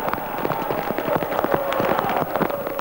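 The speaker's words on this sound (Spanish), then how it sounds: "es la lluvia que caía sobre la cámara en la cancha de Chicago" Dense, irregular crackling patter of rain striking a camera close by at a football ground in Chicago, Argentina, steady and loud throughout.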